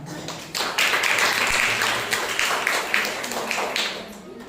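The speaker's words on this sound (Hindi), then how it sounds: "आइए परमेश्वर के लिए जोरदार तालियां" Congregation clapping during a Sunday morning church service, uneven and loosely rhythmic, with individual claps and taps standing out over a general patter and a low murmur of voices.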